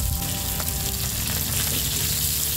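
Silver carp ring pieces frying in hot oil, a dense, loud, close sizzle that holds steady and unbroken for a couple of seconds with no talking.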